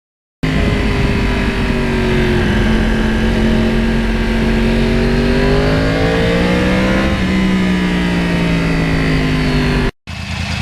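A Yamaha R1 Crossplane motorcycle engine drones loud and close under steady acceleration, its pitch climbing gradually then easing back before cutting off abruptly.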